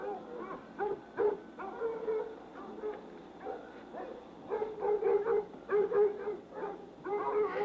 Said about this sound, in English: The dogs are hot on the trail, chasing the deer in this direction.